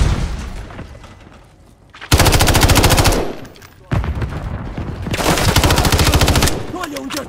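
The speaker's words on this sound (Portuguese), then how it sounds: "Tô levando um tiro aqui!" Rapid automatic gunfire from Call of Duty: Modern Warfare 3 bursts loudly in two long sustained volleys, with a brief lull between them and busy game noise around.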